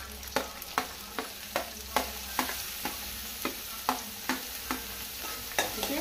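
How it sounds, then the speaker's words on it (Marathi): Finely chopped onion fries in a pan for a Goan baingan bharta, a steady sizzle broken by regular, close spatula scrapes about twice a second, with no talking. "ओके, कांदो बरो फ्राय करून घेवया."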